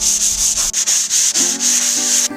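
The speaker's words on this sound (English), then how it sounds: "I'm using the sanding machine instead." A power sanding machine smooths dried filler on interior walls of a lightweight house on wheels, giving a loud close continuous whirring rasp with rhythmic pulses as the pad moves.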